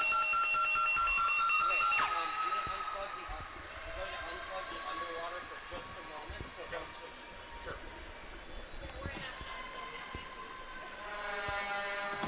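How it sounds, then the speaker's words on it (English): Loud electronic buzzer ends the first half of an underwater hockey world championship match, blaring for about two seconds then cutting off, leaving arena crowd noise and commentary talk; a fainter tone returns near the end. "And they call just as the buzzer sounds."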